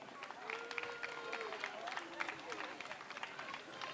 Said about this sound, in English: Let's give him a nice round of applause, ladies and gentlemen.